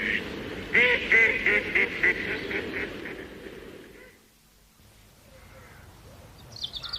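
A duck quacks in a quick run of loud, close, nasal calls, roughly eight in a row, then falls silent before a faint bird call near the end.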